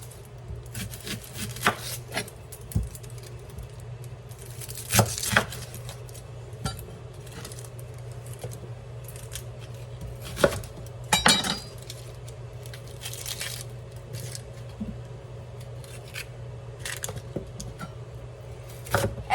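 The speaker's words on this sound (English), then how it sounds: "I'm going to go ahead and cut up a red onion" A knife cuts up a red onion on a board in a home kitchen, with scattered sharp knocks and clinks spread irregularly over the stretch, fairly faint over a steady background hum, with no talking.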